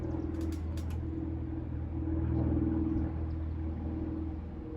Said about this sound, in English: We got airplanes, we got cars